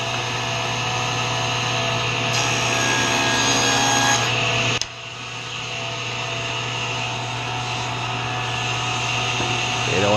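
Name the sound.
power saw cutting wood pieces for a box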